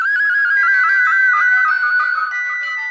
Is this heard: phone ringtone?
yes